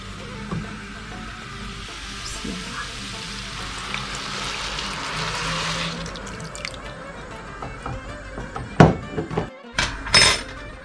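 Water is poured into a pot for cooking Turkish bulgur, making a steady rushing pour, followed by loud clanks and knocks of cookware near the end.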